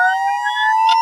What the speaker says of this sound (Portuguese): Posso pedir para rodar a outra vinheta agora da Sirene?